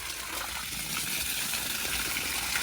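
Water rushing steadily from a hose at home, a continuous hissing flow with no pauses and no voices.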